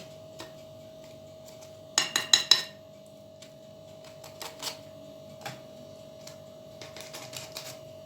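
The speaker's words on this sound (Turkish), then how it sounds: "bir bıçak yardımıyla şöyle kesikler atıyoruz" Knife scoring slashes across the top of sesame and nigella seed bread dough in a round glass baking dish: a quick cluster of crisp scraping cuts, followed by a few scattered lighter strokes, close and fairly quiet over a steady background hum.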